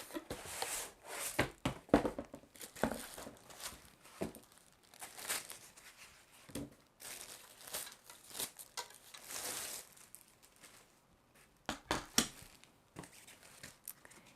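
A Loklik roll holder kit for an iCraft cutting machine being unpacked, with irregular close crinkling of plastic packaging, rustling and small handling knocks coming in bursts and pauses.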